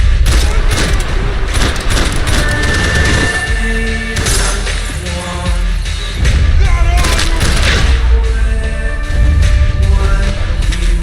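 Grenade explosions and bursts of gunfire in the Max Payne 3 video game, repeated loud booms and shots in a dense, chaotic fight with music and effects mixed in.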